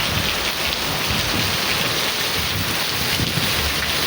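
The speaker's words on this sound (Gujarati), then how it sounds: "હા બધું આમ જો પવન એવો છે અને વરસાદ એવો" Heavy rain pours down with strong wind over a village, a dense, loud, continuous hiss and roar with no pauses and no voices.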